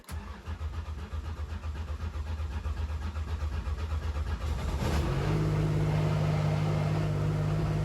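An MG Metro 6R4 Group B rally car engine cranks over and catches, settling into a loud, steady, rumbling idle heard close up with no talking.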